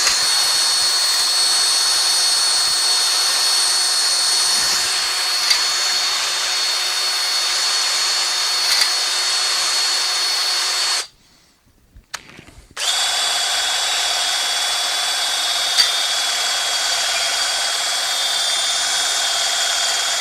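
A drill spins a ball hone inside the engine cylinders of a 1967 Dodge Dart, producing a steady, high whining drone that cuts off for about two seconds, then resumes at the same pitch.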